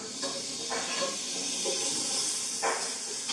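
Half a stick of butter hisses and sizzles in a hot pan, a steady close broadband fizz with a few brief swells.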